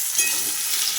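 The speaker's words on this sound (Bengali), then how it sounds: "এখানে আমি এখন আলু ভাজা করছি মায়ের জন্য" Small potatoes frying with salt in a wok give off a brief, even, hissing sizzle, close and steady with no talk.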